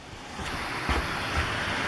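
A waterfall outside a historic wooden cabin in Swatara State Park gives a steady, broad rushing roar that holds evenly throughout, with no voices.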